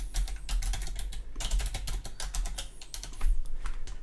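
Rapid, dense typing on a computer keyboard, close and continuous, with irregular bursts of clicking keystrokes and brief pauses, no voices.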